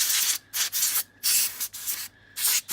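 Canned compressed air hisses in repeated bursts while a PC is cleaned, a steady loud rushing spray in about five blasts separated by short pauses, close by with no talking; the can is cold and its pressure is weakening.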